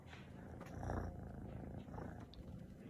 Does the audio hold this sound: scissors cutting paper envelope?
no